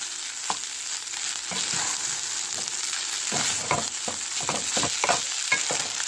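Garlic and onion fry in butter in a pan for fried rice, sizzling steadily up close while a utensil scrapes and stirs in repeated strokes, with no speech.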